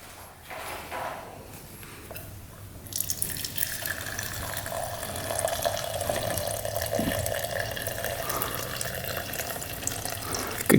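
Gasoline pours out of a quad's fuel line in a steady, splashing stream, sounding like a running tap, starting softly and then flowing loudly and continuously close by without talk.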